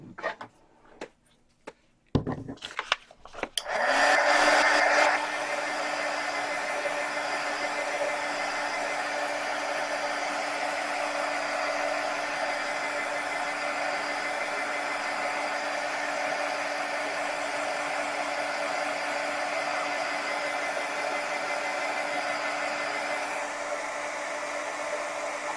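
Hair dryer blowing on Elmer's glue for a crackle effect: a steady, loud whooshing hum that starts after a few clicks and handling noises and runs on unbroken, close to the microphone.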